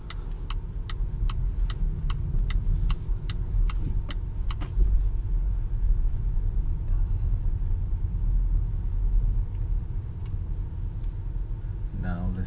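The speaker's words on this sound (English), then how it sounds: "we're driving up to the Eco Arden's compound" A car drives slowly up to a compound, with a steady low engine and road rumble throughout and a run of sharp ticking clicks, like an indicator, early on.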